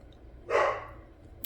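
A single sharp bark from a dog indoors, close and moderately loud, cutting through an otherwise quiet room with a faint click just afterward.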